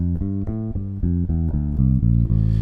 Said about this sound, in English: then it would be Phrygian, A Phrygian, which sounds like this